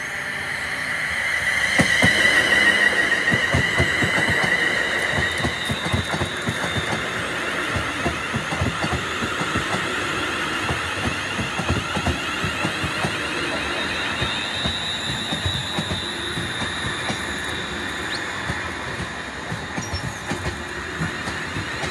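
A train rumbles steadily past a railway level crossing in Ayrshire, Scotland, with a continuous mechanical roar and rhythmic clatter of wheels that holds for the whole stretch.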